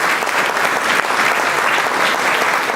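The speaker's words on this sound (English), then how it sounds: "Come on, round of applause." A gala dinner audience applauds in a sustained, dense burst of clapping, loud and even throughout with no pauses.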